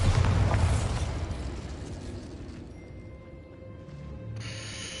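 A Bombarda explosion spell goes off in Hogwarts Legacy with a loud, broad blast at the start that decays over a few seconds into a quieter rumble, with faint tonal ambience and a soft chime near the end.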